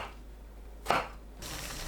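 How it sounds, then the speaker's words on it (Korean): A knife cuts an eggplant into pieces with a single crisp thunk on a cutting board, quiet and close, surrounded by soft kitchen background noise. "가지 두께에 따라 4등분에서 6등분으로 잘라주세요"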